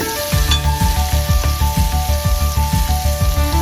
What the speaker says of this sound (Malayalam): ഇനി നമുക്ക് ഇതിലേക്ക് സവോളയും പച്ചമുളകും ഇടാം. ഇതിന് നന്നായിട്ട് വഴറ്റണം.